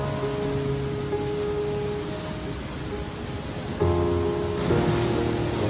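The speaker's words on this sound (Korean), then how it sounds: "시원한 파도를 보면 정말 마음이 뻥 뚫리는 곳이 이 영금정입니다." Ocean waves breaking at Yeonggeumjeong on the East Sea near Sokcho, a steady broadband surf wash that swells louder toward the end, with no voices.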